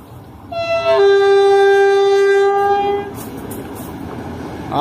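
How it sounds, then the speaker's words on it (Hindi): A freight train hauled by an RGV locomotive blasts a loud, sustained multi-tone horn for about two seconds, then rumbles steadily past close by with rolling wheel and wagon noise. "तो एक और फ्रेट ट्रेन आ रही है हमारे पास RGV लोकोमोटिव के साथ।"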